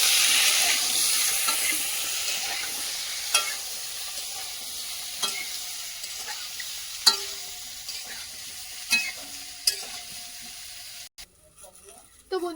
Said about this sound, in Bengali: খালি হালকা করে আলু আর বেগুনটা ভাজা করে নেব।